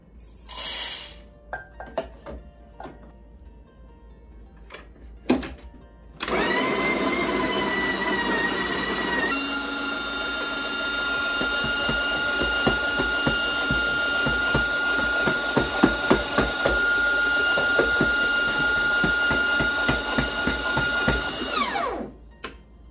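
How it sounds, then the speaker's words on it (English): A Breville Barista Express grinds coffee beans in one long, steady, loud whirring run of about fifteen seconds, after a few soft clicks and taps, then it stops abruptly. "we are gonna go ahead and grind our beans"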